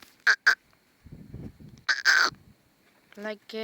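Farm birds, including roosters, call near a rural home at dusk, with short sharp squawks and a longer harsh cry, heard close between a man's low speech.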